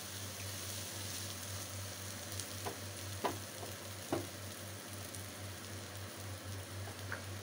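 A potato-stuffing filling of fish, cashews and raisins sizzles faintly in a pan for potoler dorma, with a steady low hum and a few soft stirring knocks.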